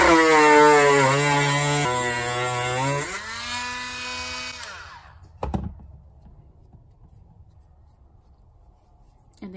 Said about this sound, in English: So I'm going to turn my Dremel to about 4 or 5